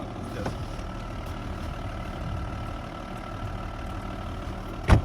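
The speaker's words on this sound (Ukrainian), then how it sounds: "Моторчик працює рівненько" An Audi A4 engine idles with a low, even rumble throughout, ending with a brief sharp knock or bump.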